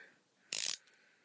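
A single short burst of socket ratchet clicking while tightening parts of a Zastava PAP stock conversion kit, a quick dry mechanical rattle lasting about a quarter second in otherwise near silence.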